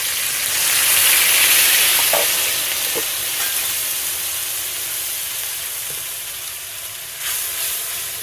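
Cumin seeds and a ground paste of ginger, cumin and green chili fry in a pan for a village-style potol and prawn dish, giving a steady close sizzle with faint stirring scrapes and no talk.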